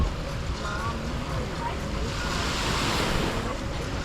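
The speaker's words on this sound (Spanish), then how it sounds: "con el sonido de las olas" Ocean waves wash steadily onto a beach in Marbella with a constant roar and some wind, one surge swelling slightly louder midway.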